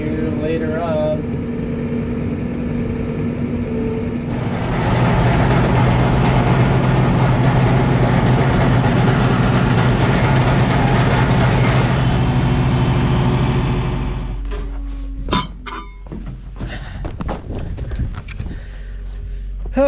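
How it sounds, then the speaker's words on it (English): A skid loader engine runs steadily on a farm, a low heavy drone that swells louder for several seconds, then drops back as scattered knocks and clatters take over near the end. "I just actually started up the skid loader a little bit ago"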